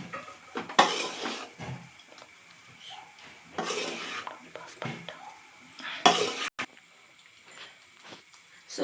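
Egg fried rice is stirred in a pan with a metal spatula in several bursts of scraping and clinking against the pan, close and clear, with quiet gaps between strokes.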